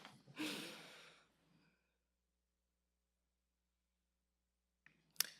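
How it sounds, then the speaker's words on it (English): A toddler yawns from the back seat of a car during a drive to daycare, giving one long, breathy exhale that trails off into silence. A faint, brief click follows near the end. "You hear my toddler yawn in the back."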